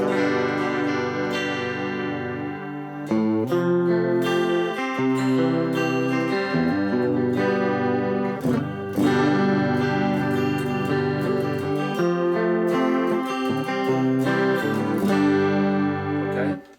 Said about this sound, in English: That's chorus, you can hear the effect.